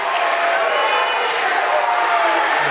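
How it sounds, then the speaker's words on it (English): Boxing crowd cheering a fighter on, a dense, steady roar of many voices that stays loud throughout with no break. "The crowd calling him on."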